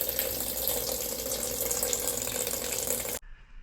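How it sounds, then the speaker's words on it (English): Water pours steadily from the spout of a DIY shower built into a Honda Fit car camper, a loud close hiss of flow that stops abruptly near the end, leaving near silence. "you're going to press the button and the water's going to come out"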